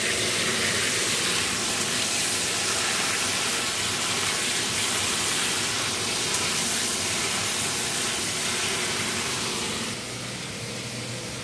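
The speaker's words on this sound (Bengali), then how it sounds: "আর এদিকে দেখো ফুলকপি ভাজা হচ্ছে এখানে।" Cauliflower and potato pieces fry in a pan with a constant, even hissing sizzle that stays loud and then eases slightly toward the end, with no voices.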